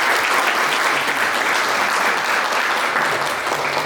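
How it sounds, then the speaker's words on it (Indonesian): A crowd at a 10th anniversary celebration claps in sustained, dense applause, steady and fairly loud throughout with no pauses. "Tepuk tangan buat saudara saya."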